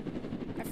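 A helicopter in the Roblox video game gives off a steady, throbbing rotor drone in a short, continuous burst with no speech over it.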